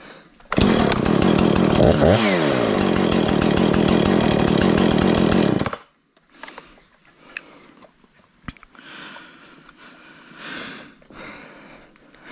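A Homelite Super XL chainsaw roars loudly for about five seconds, its engine pitch sweeping briefly, then shuts off, leaving faint handling noises and clunks.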